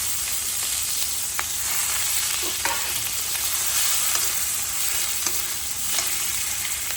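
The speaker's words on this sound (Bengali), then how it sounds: "এই দেখো পেঁয়াজ আর কাঁচা লঙ্কা তেল গরম হয়ে গেছে দিয়ে দিচ্ছি" Onions and green chillies fry in hot oil with a loud continuous sizzle and hiss up close, punctuated by occasional small pops and stirring sounds.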